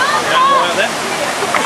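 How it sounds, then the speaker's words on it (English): The Kusu waterfall gives a steady, broad rush of falling water close by. Faint voices can be heard over the roar. "now up to the waterfall"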